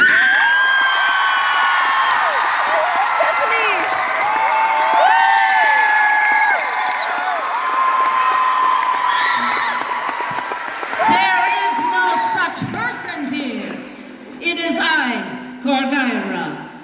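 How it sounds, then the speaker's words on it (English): Audience at a Toronto book tour event with two authors clapping and whooping, a loud crowd swell with cheers and shouts that thins toward the end as voices and scattered calls come through. "Huge round of applause, Stephanie Lurie"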